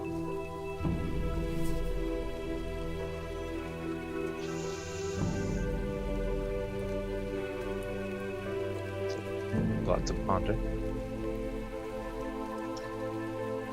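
Steady rain falls as a constant wash of patter, with a musical drone underneath and a few louder knocks. A voice speaks once, briefly.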